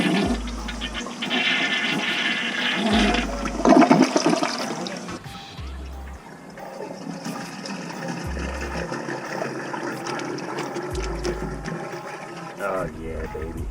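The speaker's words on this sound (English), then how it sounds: "Now I'm going to flush the toilet." A toilet flushes during work to clear a main sewer line with a curb plunger, giving a loud, sustained rush and gurgle of water nearby, with a low pulsing thump recurring underneath and voices heard faintly.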